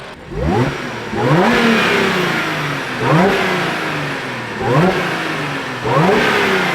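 An Audi S5 on its stock intake revs with the hood closed, giving five rising sweeps that drop back to a steady idle between them, loud and near with no voices.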